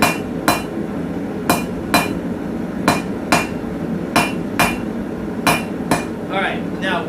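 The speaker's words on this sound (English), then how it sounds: "It's pretty much too cold to hammer anymore." Hammer blows on hot metal being forged into a leaf shape, about eleven sharp ringing strikes at an irregular, unhurried pace over a low background hum. No one speaks.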